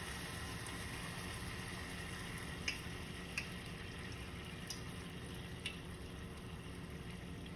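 Hot honey sauce sizzles in a frying pan that heats up fast, a quiet, steady hiss with a few soft clinks from stirring and no voices.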